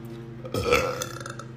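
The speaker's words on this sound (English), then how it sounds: "it might be like a burp, throw up burp" A loud, close burp from someone who has swallowed a lot of air while eating, a single sustained belch rising sharply and trailing off over about a second in a public setting.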